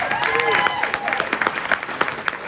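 A room audience at a Friendly Sons of Saint Patrick Man of the Year event applauds in a dense, steady patter of claps over a couple of seconds, with a voice faintly running through it.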